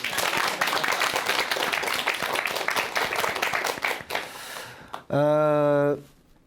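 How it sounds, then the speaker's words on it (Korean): Lecture-hall audience at a Korean motivational talk breaking into dense, sustained applause for several seconds, which then thins and stops before a single voice speaks. "우리 저분께 박수 한번 주세요"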